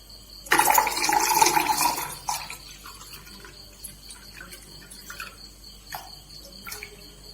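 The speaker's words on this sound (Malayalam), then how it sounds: "ഇതിലേക്ക് നമ്മള് തണുത്ത വെള്ളമാണ് ഒഴിച്ചു കൊടുക്കുന്നത്" Cold water splashes into a hibiscus flower squash in a burst of loud, steady pouring that lasts under two seconds, then gives way to faint drips and small clinks.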